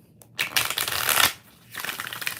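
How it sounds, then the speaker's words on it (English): Tarot cards shuffled by hand during a live reading, two quick riffling bursts of crisp papery flutter separated by a short pause, close and clear with no talking. "3 more shuffles."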